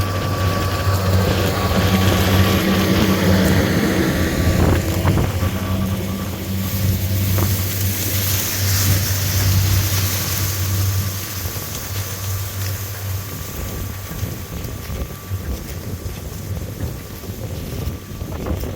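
A tractor pulling an Artemida-6 seeder sows over corn residue in an open field, its engine a low, steady drone half buried under heavy gusting wind.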